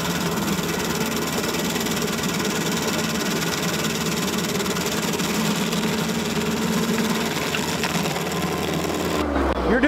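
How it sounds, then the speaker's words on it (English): A low-cost stump grinder chews steadily into a tree stump, a loud continuous grinding engine roar with dense rattling texture that runs throughout and cuts off near the end. "This is the first time I've ever seen someone grind a stump with it."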